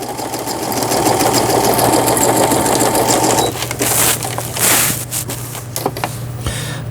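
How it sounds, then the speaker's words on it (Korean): A Brother PC8000 household sewing machine runs steady overlock stitching, a loud continuous rapid mechanical whir with a low hum, then slows into shorter, uneven bursts of stitching near the end. "오버록 바느질도 정상적으로 되고 있고"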